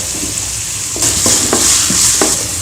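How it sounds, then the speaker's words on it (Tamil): Finely cut potatoes fry with salt in a pan, a steady sizzle broken by several sharp scraping stirs of a spoon against the pan, close and fairly loud, with no voices. "உருளைக்கிழங்கு வறுக்கிற மாதிரி நல்லா வறுக்கலாம்"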